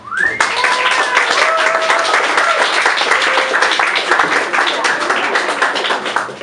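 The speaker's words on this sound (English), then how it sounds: "So if you can have a round of applause for Maria Taylor." Applause from an audience at a book reading for a newly published novel, dense, steady clapping that fills the room from start to finish with a few brief tones, like a phone or whistle, cutting through it.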